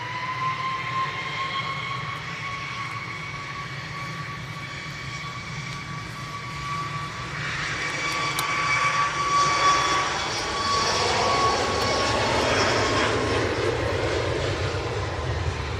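A passing airliner's jet engines give a steady droning whine that swells louder and rougher in the second half, heard outdoors at a plane-spotting spot with gusty wind buffeting nearby.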